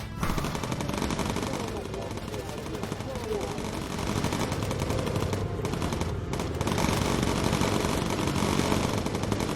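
Machine gun fire from bomber defences in the video game Bomber Crew, a dense, continuous rattling burst holding steady over engine drone throughout.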